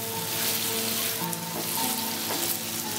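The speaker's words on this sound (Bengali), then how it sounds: "কষানো মশলাটার সাথে শাকটাকে আমি এখন ভালো করে মিশিয়ে নেব।" Taro greens with soaked nuts stirred into a pan of fried spice paste for a hilsa-head kochur shaak sizzle steadily and fairly loudly throughout, with a faint tonal hum behind and no talking.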